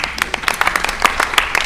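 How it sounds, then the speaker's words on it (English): Short burst of applause at a board of education meeting honoring a colleague's doctorate, close, crisp individual claps from a modest group. "You can applaud."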